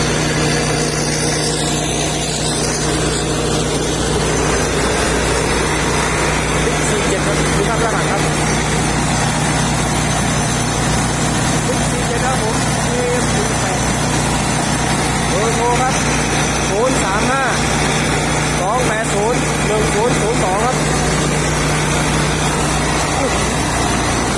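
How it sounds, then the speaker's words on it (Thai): A Sakdiphatthana KM48 2.5-ton truck with a JO8C turbo 260 hp engine idles nearby, a steady low diesel rumble that continues under someone speaking Thai. "ลั่นลั่นเครื่องยนต์น่าจะเป็นเจโอแปดซีโบครับ สองร้อยหกสิบแรงม้า"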